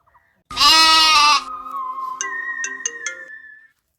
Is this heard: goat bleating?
yes